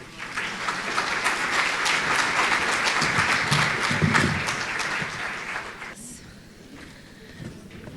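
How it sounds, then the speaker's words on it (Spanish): Audience gives a strong round of applause to welcome a speaker at a mathematics education talk, swelling then cutting off abruptly near the end, followed by a quieter room with faint sounds. "La recibimos con un fuerte aplauso."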